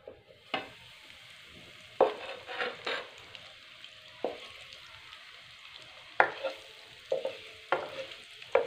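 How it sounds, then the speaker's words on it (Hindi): Eggs fry in ghee in a kadhai with a steady low sizzle, broken by repeated scraping and clanking strokes of a spatula against the metal pan, close and fairly loud. "कढ़ाई में 1 चम्मच हम घी डाल देंगे। अब हम इसमें अंडे डाल देंगे और इनको फ्राई कर लेंगे।"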